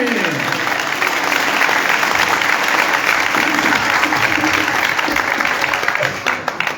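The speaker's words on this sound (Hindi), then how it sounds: "और ताली दे" A church congregation claps during a live worship service in Islamabad, loud sustained applause filling the whole stretch and tapering slightly at the end.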